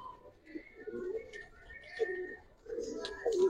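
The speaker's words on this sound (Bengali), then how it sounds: "ওটা কোবরা কবুতর, হেমান ওটা কোবরা" Cobra pigeons cooing softly in repeated low throaty phrases, fairly faint and close, with light background noise and some voices around.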